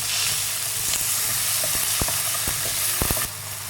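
Tomatoes fry in a pan with softened onions while cabbage-dumpling filling is prepared: a steady close sizzle and hiss, broken by a few sharp clicks and knocks from stirring.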